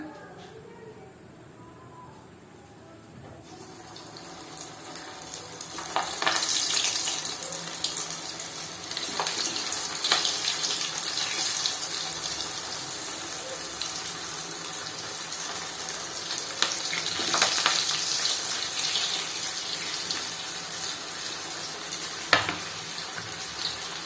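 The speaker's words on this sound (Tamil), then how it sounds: "எண்ணெய் சூடாயிடுச்சுங்க. இப்ப எல்லாம் ஒன்னொன்னா போட ஆரம்பிச்சிடலாம்." Potato rolls hiss and crackle as they fry in hot oil, the sizzle rising after a quiet few seconds and then holding steady and fairly close, scattered with sharp pops.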